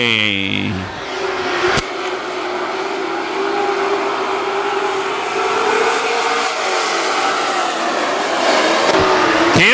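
WISSOTA super stock race cars roar past the grandstand at Granite City Speedway, a loud, continuous engine drone with rising and falling pitch as the pack passes, under a track announcer's voice.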